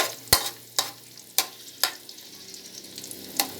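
Onions sauté in a pan for a mung bean dish, giving a continuous sizzle. Five or six loud scraping strokes from a spatula stand out at irregular intervals, close up and with no voices.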